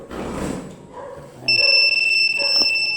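A motorcycle anti-theft alarm on a Yamaha Mio sounds through its handheld remote: two steady high electronic tones come in partway through and hold loud to the end, with brief talk and rustling before them.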